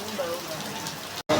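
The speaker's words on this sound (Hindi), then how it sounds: "बारिश कैसे तेजी हो रही है बारिश" Heavy rain falls steadily as a dense, even hiss throughout, cut by a brief dropout near the end, with someone talking over it.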